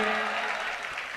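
A mushaira audience listening to Imran Pratapgarhi recite a nazm breaks into a short burst of dense, close applause that fills the moment and fades slightly toward the end.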